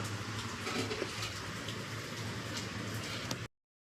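Rain falling outside, a faint, even hiss of drops running steadily before cutting off abruptly, with no voices.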